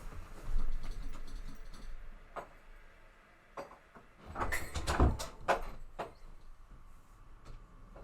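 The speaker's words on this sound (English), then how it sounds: "I have to close the door." Door being closed indoors during a family holiday gathering, with a few scattered clicks and knocks building to a cluster of louder latch and thump sounds near the middle, then quieter taps.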